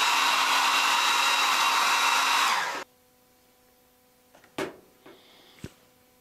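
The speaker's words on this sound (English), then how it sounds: "I like to heat the surface of the lure with a blow dryer" A hair dryer heating the resin surface of a fishing lure blows loudly and steadily for a few seconds, then switches off, leaving quiet with a few small clicks and knocks.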